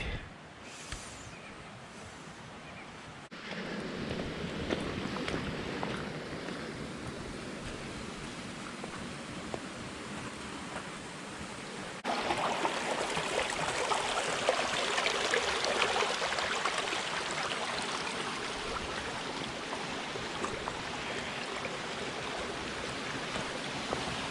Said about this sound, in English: look at the Wissahickon Creek.